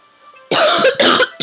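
A man coughs twice in quick succession, with harsh, loud, close bursts after a moment of quiet background hum.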